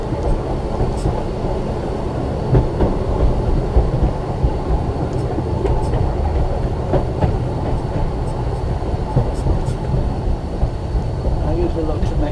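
A tram runs downhill on steel rails with a continuous rumbling roll and scattered wheel clicks and squeals. A person talks over the noise throughout.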